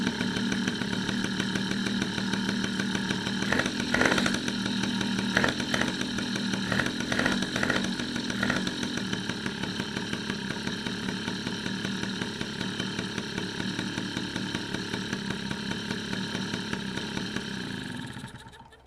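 An MBK 51 moped engine runs close and loud with a buzzy two-stroke drone, a few sharp revs near the start, then a steady idle that fades out at the end.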